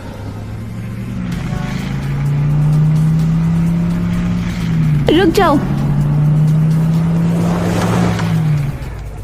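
A shiny car pulls up in a Hindi story scene, its engine hum swelling loud and steady across the clip, briefly interrupted midway by a sharp shouted voice before the engine drone continues.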